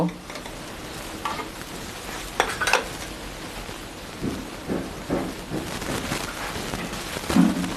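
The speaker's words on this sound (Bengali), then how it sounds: "এবার আমি গোলাটা গুলবো একটা বাটির মধ্যে" Batter for Bengali palm fritters (taler bora) is stirred in a bowl, giving a close, scraping, sloshing sound in uneven bursts with no one talking.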